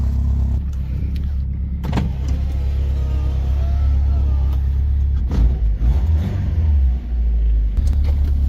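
A car fitted with a replaced exhaust drones with a steady low engine rumble from inside the cabin, briefly swelling as it revs and accelerates partway through, with no talking.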